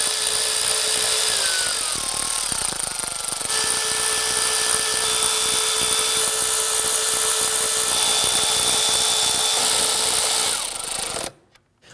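Power tool running down the intake bolts on a 2010-2019 Ford Taurus with a 3.5L V6, a loud high-pitched whirring held for about eleven seconds with slight pitch shifts, then stopping abruptly.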